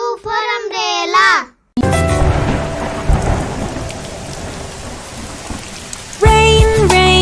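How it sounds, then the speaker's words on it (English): Steady rain pours down with rumbling thunder in a children's nursery-rhyme song, the downpour filling several seconds between stretches of high, melodic singing at the start and end. "Rain, rain, go away, come again"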